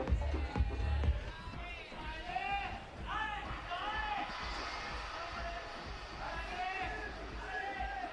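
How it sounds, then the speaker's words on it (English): French spectators at an ice climbing European Cup competition in Bern, Switzerland shout and cheer in a steady crowd roar, with repeated rising whoops and calls over a busy outdoor hubbub and a heavy low rumble at the start. "Lots of shouts of Allez from the French crowd here."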